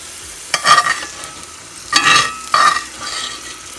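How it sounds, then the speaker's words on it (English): Green onion, onion and mushrooms sizzle and crackle in a hot pan on a stovetop, with a few louder bursts of frying as they are stirred, close by and no talking. "You probably hear other things sizzling and stuff."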